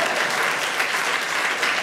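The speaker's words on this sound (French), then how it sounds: "Applaudissez pas, ça va l'encourager" Brief burst of audience applause, dense even clapping from a crowd, fairly loud and sustained throughout.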